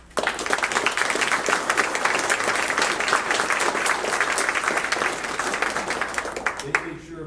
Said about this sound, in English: these Vietnam veterans. Give them a round of applause.